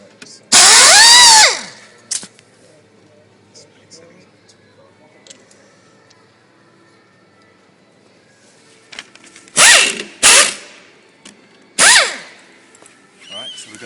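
A power tool removes the bolts from a washing machine motor: a loud whirring burst early on, then several short powered bursts later, separated by quiet stretches with faint handling noise.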